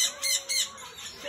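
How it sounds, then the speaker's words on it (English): Two or three short, harsh bird squawks from a laughing kookaburra, fairly close, in quick succession. "Look at this laughing kookaburra."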